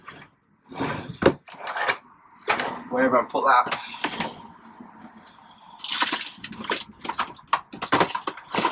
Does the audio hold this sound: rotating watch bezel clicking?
no